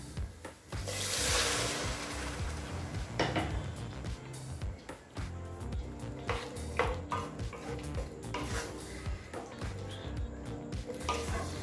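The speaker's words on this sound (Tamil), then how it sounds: "இப்போ வேக வச்ச கொண்டக்கடலை இதில் சேர்த்துக்கலாங்க." Boiled chickpeas tipped into frying masala in a pan for channa kurma, then stirred, giving a brief louder splash and sizzle followed by softer irregular scraping and clinks, fairly quiet and close.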